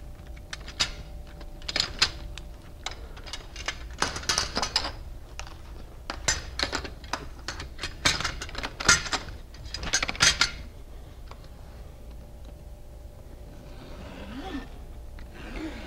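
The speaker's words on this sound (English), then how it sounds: "run your knife down to trim off the excess" A utility knife trims excess fiberglass window screen in a series of sharp, close scraping strokes and clicks spread over several seconds, then fades to quieter handling near the end.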